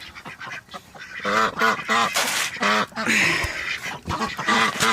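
Ducks in a small hobby-farm pen quack loudly and repeatedly, several birds calling over one another in rapid, overlapping bursts close by.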